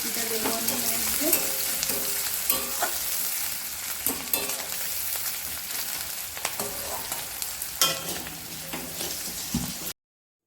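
Onions and vegetables fry in a pan with a steady loud sizzle, punctuated by scraping and clinking of stirring throughout.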